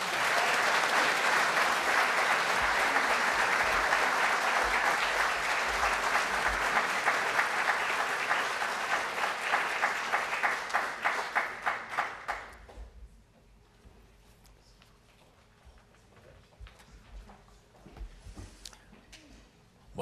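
Sustained audience applause for a group of Rotarians at a club meeting, dense and even for about twelve seconds, then tapering off into scattered claps and near silence.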